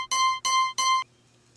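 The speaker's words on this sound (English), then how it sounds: "let's take a listen to the objective sound." The objective cue from the Invasions mode of the video game Mortal Kombat 1 sounds as three identical bright, tonal beeps in even rhythm, crisp and clean, then silence.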